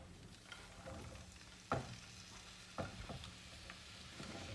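Salted porcini mushrooms fry in a pan with a steady soft sizzle, broken by a few sharp clacks of a utensil stirring or scraping.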